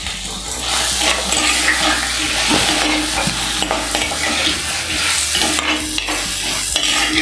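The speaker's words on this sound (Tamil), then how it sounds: "ஒரு 2 நிமிஷம் இப்படியே வதக்கி விட்டுட்டே இருங்க." Vegetables for a Tamil dry fish curry sautéed and stirred in a hot pan, a steady close sizzle with repeated scraping strokes of the spoon throughout, loud and continuous with no talking.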